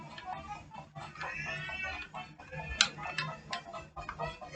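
Ducks quack and cluck faintly in a video game, short bird calls scattered over a low background hum, with occasional ticking clicks between them.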